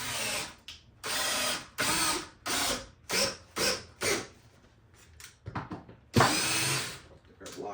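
Power drill driving screws into a wall stud while mounting garage shelves, with a series of short, loud whirring bursts separated by brief pauses and a longer final burst, no talking.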